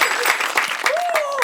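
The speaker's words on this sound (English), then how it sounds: "Please, big round of applause for Sasha and Michael" A steady wash of audience applause, loud and continuous, with a voice speaking over it and a faint whistle-like tone rising and falling.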